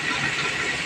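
Potato pieces sizzle in hot oil with whole cumin seeds, a steady, close, even hiss that holds for the whole moment without a break.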